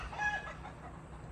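Chickens clucking softly on a farm near a pumpkin and squash patch, a short faint burst of fowl calls over low background noise.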